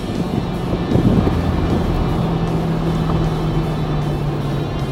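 Race car accelerating on a track during a driving session, a steady loud engine drone with strong low rumble and wind buffeting throughout, no speech.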